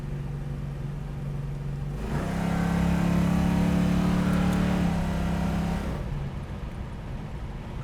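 A 1970 Dodge Dart's V8 idles, then revs up and holds a loud, rising roar for several seconds before dropping back to a rumbling idle, heard up close with no talking.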